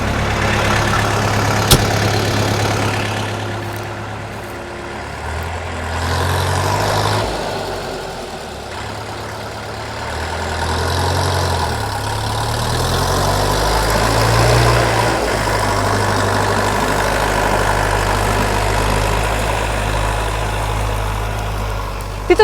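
A tractor engine runs steadily while driving across farm fields, a loud, low, continuous rumble whose pitch shifts up and down as the throttle changes, with no talk over it.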